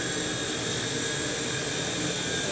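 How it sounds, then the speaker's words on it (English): A T-REX 100X radio-controlled model helicopter flies, its small rotor and motor giving a steady, close, high-pitched whine and whir that holds unbroken throughout. "it's a great little helicopter to learn on"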